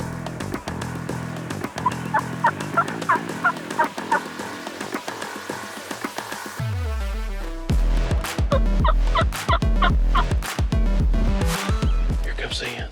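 Wild turkeys in open Nebraska country, a gobbler calling behind a group of hens, with repeated gobbles and clucks sounding at moderate distance and someone talking quietly over them.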